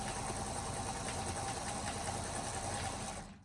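A sewing machine stitches a fabric table runner in a fast, continuous whirring drone, close and steady, before winding down and stopping at the end.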